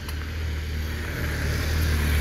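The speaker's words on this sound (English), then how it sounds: "Here comes the motorcycle cop." A police motorcycle approaches during a K9 search for a man, its engine a steady low drone that grows gradually louder over a couple of seconds amid outdoor traffic noise, with no talk.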